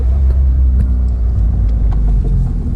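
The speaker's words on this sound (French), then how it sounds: "Là, on roule tranquillement." Peugeot 106 cruising steadily along a public road on a test drive, a low continuous engine and road rumble from inside the cabin with no talk.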